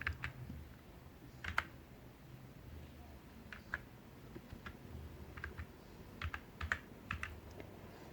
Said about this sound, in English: Type something with a physical keyboard.